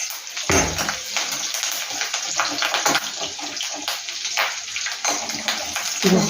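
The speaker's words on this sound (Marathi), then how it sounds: "आता फोडणीचा तुम्हाला आवाज येत असेलच" Spices and garlic crackle and sizzle in hot oil for a tempering, a continuous bright spattering hiss close by with small pops, no talking.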